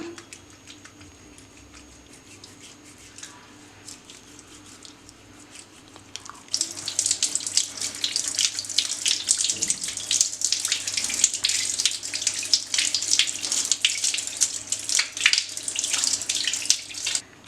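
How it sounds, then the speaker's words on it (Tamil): Tap water runs steadily while a face pack is rinsed off the skin, a soft trickle at first that turns into a louder, continuous splashing flow at the sink, close and with no talking. "இப்போ தண்ணி தொட்டு நல்லா தேய்ச்சிக்கலாம்"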